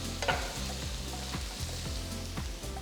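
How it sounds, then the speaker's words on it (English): Green chilies and finely chopped onion sauté in a hot pan with a steady crackling sizzle, while a utensil stirs and scrapes repeatedly close by. "Saute the ingredients for about 2 minutes"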